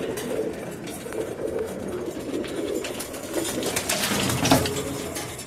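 Racing pigeons in a loft coo in soft, repeated throaty bursts, several birds overlapping close by, with rustling and faint flapping in the background.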